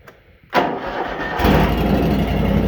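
Kubota lawn mower engine cold-started after a carburetor rebuild and new fuel pump, cranking briefly before catching and settling into a loud, steady, close idle that grows fuller after a second, with no talking.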